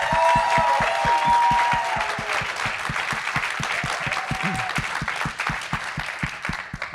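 Audience applause fills a live podcast recording at the TrustCon 2024 conference, a sustained, dense round of clapping that stays steady and fairly close throughout, with faint background tones early on and no talk over it.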